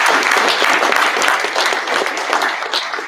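A graduation ceremony crowd claps for class 17 Sierra 23007, loud, close, dense applause that fills about three seconds without letting up.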